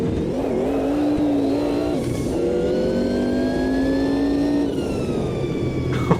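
A race car engine in the Automobilista 2 sim revs hard and steadily through several gear changes, then crackles and pops on overrun, loud and continuous with rising engine pitch.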